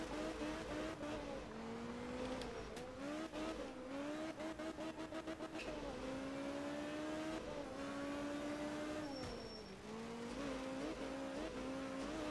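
A race car engine in the VRC racing game roars continuously at high revs on the Sardinia circuit, pitch climbing and dropping through gear changes, with a burst of rapid clattering and tire scrub midway, loud and close throughout.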